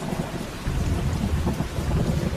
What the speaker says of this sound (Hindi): कुछ ही मिनटों में तेज बारिश और ठंडी हवा चलने लग गई